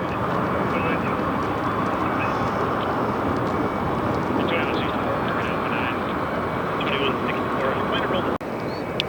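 Former Northwest Airlines jet airliner at Detroit Metro airport, a continuous loud roar of engine noise sustained throughout, briefly dropping near the end, with a faint distant quacking-like sound over it.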